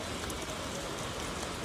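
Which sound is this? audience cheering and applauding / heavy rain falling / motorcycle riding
heavy rain falling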